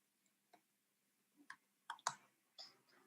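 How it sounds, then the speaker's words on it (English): Typing on a computer keyboard, a few sparse, quiet clicks spaced irregularly, with a small cluster of sharper taps near the end in a quiet room. "Well, I'm typing."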